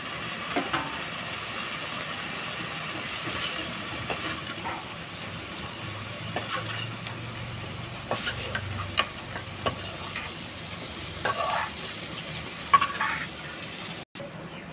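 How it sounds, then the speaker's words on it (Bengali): Pieces of pointed gourd (potol) fry in oil in a pan, producing a steady soft sizzle with occasional scraping and stirring clicks over a constant background hum. "বাকি পটলটা ভেজে নিচ্ছি"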